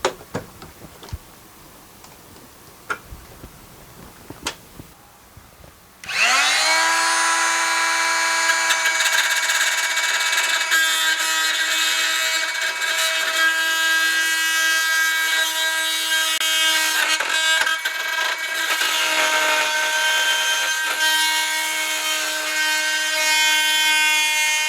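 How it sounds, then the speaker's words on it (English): Power drill fitted with a Diablo carbide bit cutting through a van's metal roof for a skylight: a few scattered clicks and taps, then a loud, steady high-pitched whine with harmonic ringing that holds unbroken for nearly twenty seconds. "That cut right through there. That carbide bit from Diablo is amazing."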